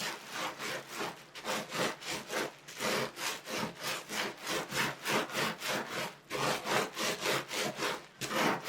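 Bubble wrap and a towel are rubbed and rolled over wet felt, making a close, rhythmic scrubbing of regular back-and-forth strokes with brief pauses between them.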